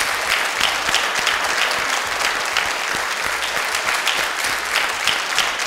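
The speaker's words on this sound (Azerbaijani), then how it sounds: "Bir də alqışlayırıq Antiq müəllimi" Audience at a Baku Communication and Transport College event applauds a guest: steady, dense clapping from a crowd, loud and continuous throughout with no speech over it.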